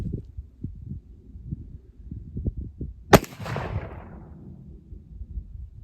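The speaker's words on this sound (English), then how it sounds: "we're gonna shoot at the top left now." Single sharp gunshot from a .36 caliber cartridge conversion revolver loaded with heel-based bullets, a loud close crack with a short decaying tail, over low outdoor rumble and quiet handling noise.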